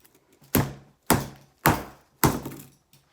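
A French baguette strikes a Terry's Chocolate Orange four times in a row, each blow a heavy close thunk that fades quickly, and no one speaks.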